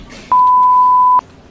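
A single steady electronic beep, about a second long, sounds after a mobile phone call is cut off, loud and clean over quiet background hiss.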